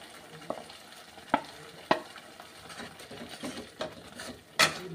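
Spices for a fish curry stirred and fried in oil, a low sizzle broken by several sharp scrapes and knocks of the spoon against the pan at uneven intervals, close with no talking.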